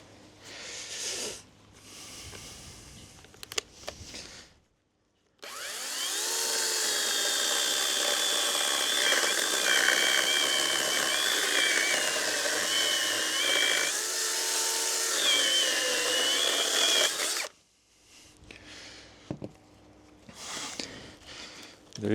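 A Procraft PKA42Li cordless saw cuts through oak in one loud, continuous, whining run of about twelve seconds, framed by quieter handling knocks before and after.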